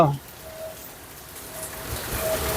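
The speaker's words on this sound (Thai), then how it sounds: "ฝนตกฝนตก นะครับ" Rain falling outdoors, a soft hiss that grows louder toward the end, with a few faint thin tones and a brief noise at the start.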